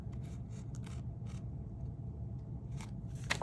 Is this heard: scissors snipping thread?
yes